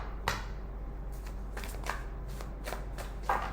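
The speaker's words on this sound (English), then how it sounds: "I'm going to shuffle." A deck of tarot cards being shuffled by hand in a quiet room, with several soft riffling bursts spaced irregularly over steady low background hum.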